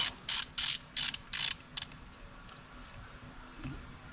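Socket ratchet cranking down on an LS engine cylinder head during a rebuild: about six crisp, close clicking bursts in quick rhythm, then quiet workshop room tone.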